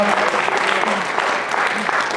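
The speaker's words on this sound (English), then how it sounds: "Big round of applause right over there" Audience applause at a high school awards ceremony, a steady wash of many hands clapping throughout, with faint voices underneath.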